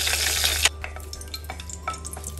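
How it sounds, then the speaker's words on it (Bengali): Whole spices such as cardamom, cinnamon, bay leaf and cloves are tempered in hot oil in a pan: a loud sizzle at first, then softer crackling with light stirring scrapes, no voices. "ফোড়নটা দেওয়ার পরে একটু নাড়াচাড়া দিলাম"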